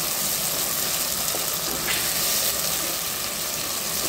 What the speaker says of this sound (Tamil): நல்லா வெங்காயம் தக்காளியெலாம் ஓரளவு நல்லா வதங்கிடுச்சு